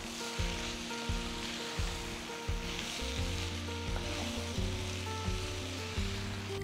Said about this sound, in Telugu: మటన్ని కనీసం 5 నిమిషాలు వేయించాలి